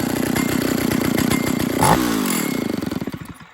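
Stihl 032 AV chainsaw running without its bar and chain fitted, a loud close two-stroke engine buzz that revs up briefly and then winds down and sputters toward idle.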